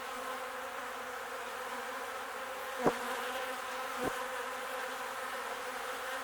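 A continuous close buzz of honeybees at a hive from a colony with a controlled-mated queen, steady and droning, broken by two faint clicks or knocks partway through, with no voices.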